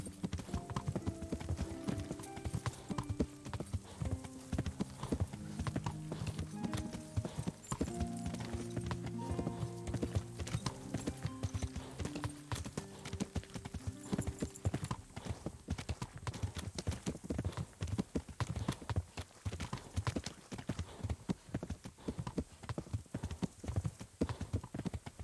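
In the video game Kingdom Come: Deliverance, a horse gallops with fast, steady hoofbeats for a long stretch, close and loud over game music, with a brief whinny.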